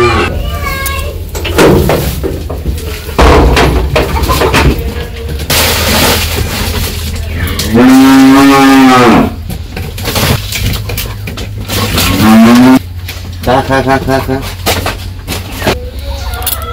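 A calf calls for its mother with two loud, drawn-out moos, one long and one shorter, amid people talking and other village yard noise.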